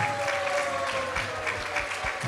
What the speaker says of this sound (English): Give a big round of applause for that very practical spiritual discourse by His Grace Vaisheshika Prabhu.